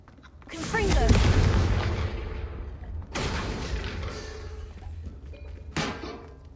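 Confringo blasting spells go off in Hogwarts Legacy as three heavy booming explosions, each sharp onset trailing into a rumbling decay, loud and close over background game sound.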